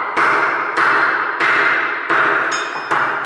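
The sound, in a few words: hammer tapping on a wood block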